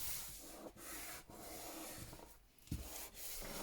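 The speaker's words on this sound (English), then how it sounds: "Got a little bit of glue there I'm just rubbing off" Soft, close rubbing on a handmade journal as dried glue is worked off, a series of quiet back-and-forth scuffing strokes with short pauses between them.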